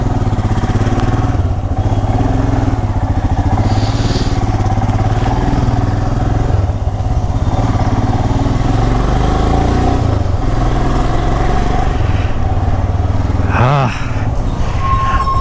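A Royal Enfield Himalayan ABS motorcycle on a morning road ride, its steady engine drone and wind rush running loud and continuous throughout.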